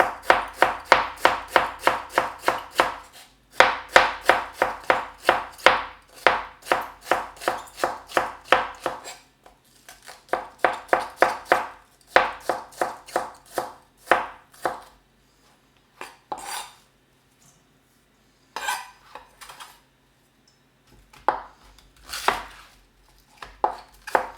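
A Redmond chef knife chops rapidly on a noisy cutting board in quick bursts of sharp, close taps, pausing between runs, with a few slower scattered chops near the end.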